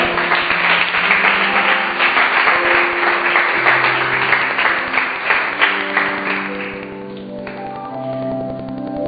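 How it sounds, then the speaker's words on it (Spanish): A church congregation applauds, dense clapping that stays loud at first and then thins and fades, with sustained music tones rising under it toward the end. "Denle un fuerte aplauso al Señor."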